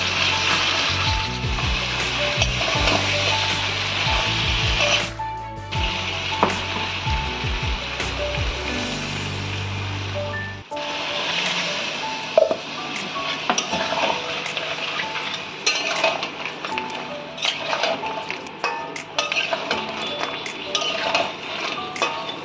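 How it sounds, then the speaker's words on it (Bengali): Ground spice paste and spice-rinsing water go into a pan with sea crab and potatoes for a crab curry, frying with a sustained sizzle and scattered clicks; music plays beneath for the first half before it settles quieter. "আমরা মশলাটা দিচ্ছি বেটে রাখা, আর দিয়ে দেবো মশলা ধোয়া জল।"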